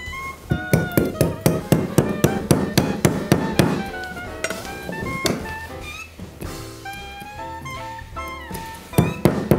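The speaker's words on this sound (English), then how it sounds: "surely the ice breaking right along that score point" A block of ice is scored and broken with a chisel and mallet, giving a fast series of sharp, ringing close strikes, then scattered knocks and cracking as the ice splits.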